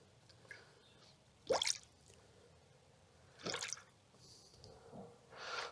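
Coolant gurgles and bubbles in the radiator of a supercharged Honda Civic Type R during bleeding, with a few separate wet gurgling bursts close by and quiet gaps between them.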